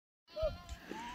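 A single sheep bleats from a flock being driven toward a watering area on a hillside, one short, fairly close call over faint background sound.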